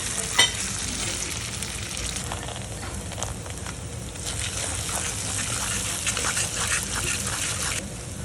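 Tomatoes and dal fry in a hot pan for sewai upma, giving a steady, close sizzle with faint stirring scrapes throughout and no talking.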